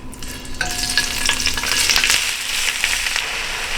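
Sliced onions hitting hot oil in a pan for Indian chicken biryani, bursting into a loud, close sizzle with stirring scrapes throughout.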